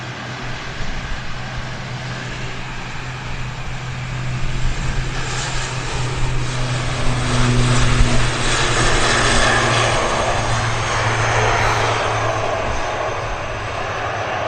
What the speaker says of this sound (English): Aer Lingus, ATR 72, heading back to Dublin.